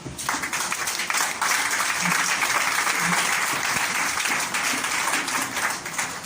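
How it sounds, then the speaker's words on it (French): A church congregation applauds and cheers for the Lord during a Sunday service, with sustained, dense clapping from many people that holds steady throughout. "On peut acclamer le Seigneur."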